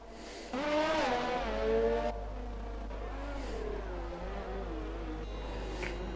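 Race cars roaring in an F1 video game race at the Australia round, one engine revving hard up through the gears, then a steady whine of several cars running together.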